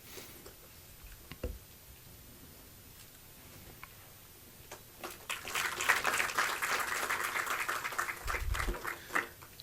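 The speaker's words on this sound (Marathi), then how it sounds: "आपण त्यांचं टाळ्या वाजवून कार्यक्रमात स्वागत करूया" A book launch audience applauds to welcome a guest, starting with a few scattered claps that swell into a sustained, fairly soft round of clapping heard from a distance in a hall.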